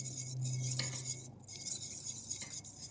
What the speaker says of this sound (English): You want to whisk them very vigorously so that they don't turn into an omelet inside the pan.